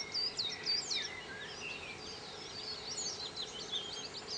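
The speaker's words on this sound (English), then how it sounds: "it's so wonderful, just all these bird sounds here." Birds sing and chirp outdoors in a steady natural soundscape, with bright, high twittering phrases repeating over soft background hiss and faint insect buzzing, no talking.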